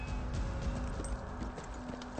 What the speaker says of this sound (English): leading a perfectly good horse